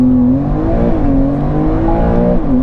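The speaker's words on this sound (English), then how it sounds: "inside a tunnel, the sound from the motor is absolutely sensational" A sports car engine with quad exhausts hums and revs steadily inside a tunnel with a deep, booming resonance, the pitch rising and dipping slightly throughout.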